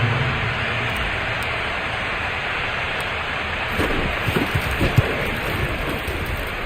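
Rain falls during a Madden NFL game, a constant hiss of fine rain with some soft, low patters toward the end, and no speech.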